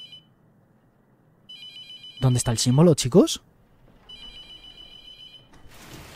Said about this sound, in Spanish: Cuando suene el teléfono, nunca cogéis el teléfono.